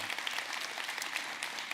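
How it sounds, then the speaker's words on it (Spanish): Applause from a church congregation welcoming a newly baptized couple, a steady dense wash of many hands clapping at moderate volume, continuous and unbroken throughout. "Un aplauso para ellos."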